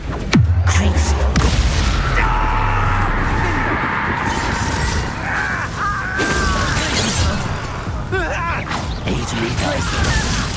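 Glacius ice spell cast during combat in Hogwarts Legacy, a sharp magical crack followed by crunching, shattering impacts and ringing tonal effects amid continuous battle noise, with a player shouting spell names over it.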